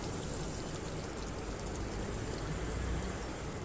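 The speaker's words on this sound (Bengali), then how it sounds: "এবার সেম তেলেই 1 কাপ পেঁয়াজ কুচি দিব। পেঁয়াজটা ভালো করে নাড়াচাড়া করে নরম হয়ে আসা পর্যন্ত ওয়েট করব।" Chopped onion frying in oil in a pan gives a steady, dense, even hiss that runs unchanged throughout with no pauses or voices.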